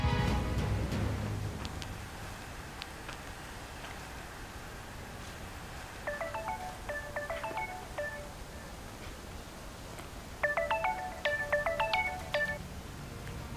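A telephone rings on an outgoing call, with two bursts of repeating electronic ring tones over a steady background hiss, each burst lasting about two seconds with a long gap between them.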